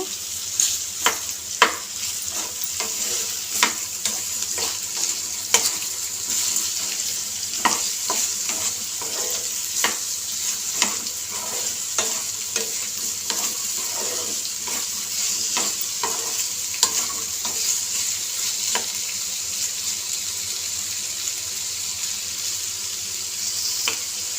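Okra curry fries in a pan, giving a continuous hiss of sizzling. A spatula stirs and scrapes against the pan in irregular clicks, heaviest early on and then sparser, close by and with no talking.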